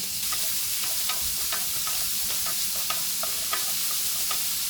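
Bacon for a meatball sauce fries in a pan, with a constant close crackling sizzle and occasional brief stirring scrapes, and no voices.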